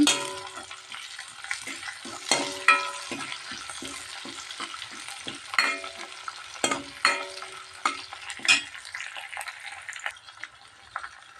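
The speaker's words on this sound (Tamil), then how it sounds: "கொஞ்சமாக கருவேப்பிலை ஃப்ரை பண்ணிக்கலாங்க" Curry leaves and spices frying in a pan: a soft, steady sizzle broken by repeated close spatula scrapes and clacks in an uneven rhythm, with no talking.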